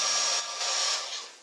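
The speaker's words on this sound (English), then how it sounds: "It sounds like a hair dryer" A handheld terahertz wand gives off a steady, airy, hair-dryer-like whir with a thin high whine, close and even, easing slightly in loudness toward the end.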